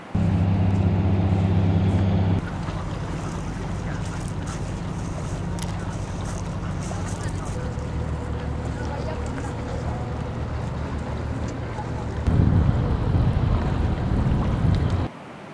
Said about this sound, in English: The boats sailing around the icebergs in Jökulsárlón, they're a big problem. They make noise.